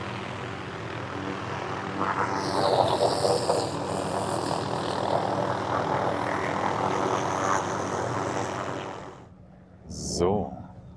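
A helicopter starting up: a loud, steady engine roar with a whining turbine tone builds and holds for several seconds, then cuts off, followed by a brief sharp burst.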